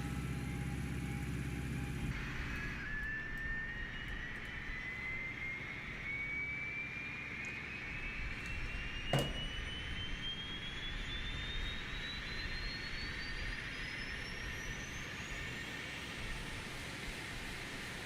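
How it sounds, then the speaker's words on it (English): A Boeing 727-100's auxiliary power unit spools up, a whine climbing steadily in pitch over a constant turbine roar, with a single sharp click partway through. "Hear the APU spooling up."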